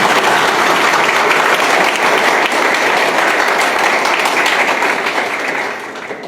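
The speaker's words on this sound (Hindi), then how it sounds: "बच्चे तालियों की गड़गड़ाहट से पूरा हॉल गुंजा देते हैं" Students fill a hall with loud, sustained applause, dense clapping from a large crowd holding steady for several seconds before tapering slightly at the end.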